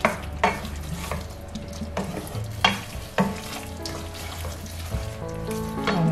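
Beef in a pepper sauce thickened with cornstarch sizzles quietly in a pan as a utensil stirs and knocks against it, with a few sharp clinks over a steady bubbling hiss.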